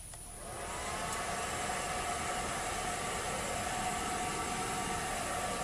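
An air blower starts up on a homemade can-melting furnace and settles into a steady, loud, roaring whoosh that continues unbroken.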